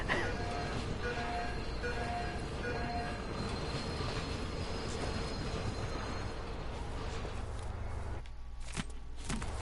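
A loud train in the Dishonored 2 video game rumbles past close by, a dense sustained roar with squealing wheels that cuts off sharply near the end.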